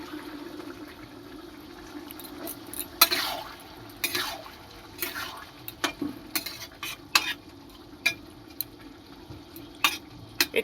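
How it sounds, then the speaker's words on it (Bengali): Fried cauliflower goes into boiling gravy in a pan, with spoon-stirring scrapes, soft liquid bubbling and a faint sizzle recurring over a steady low hum, close and moderately quiet. "ঝোলটা ফুটে গেছে, এবার আমি ফুলকপিগুলো দিয়ে দেবো।"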